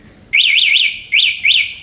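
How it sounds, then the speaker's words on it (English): The anti-theft alarm of a Hero Electric Wave DX electric scooter sounds loud and close: a rising, warbling electronic siren in two bursts, the first with three wavering cycles, the second with two. "it activates the alarm just with a touch of the vehicle"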